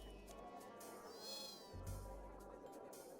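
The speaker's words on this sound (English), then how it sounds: "As you approach the well, a stray cat darts out and intercepts you." A stray cat meows in RuneScape 3, two drawn-out meows over a steady, low game background hum, faint overall.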